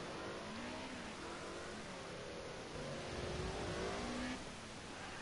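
An Audi race car engine driven hard at Monaco, revving and shifting through rising and falling pitch sweeps, fairly loud and steady with a swell toward the end.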